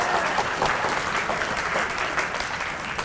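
Applause from an audience at an informational meeting for a Florida trip, a steady dense clapping that fills the room at close range, with no voices above it.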